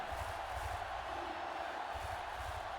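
Distant stadium crowd at a Trash Pandas vs. Stoats football game roars in a steady, continuous wash of noise after a defensive sack, with low rumbling pulses underneath and no clear voices on top.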